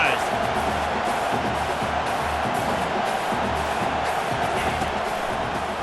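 Stadium crowd in the video game EA Sports College Football 25, a loud continuous roar of fans that stays dense and steady throughout, with a commentator's voice running over it.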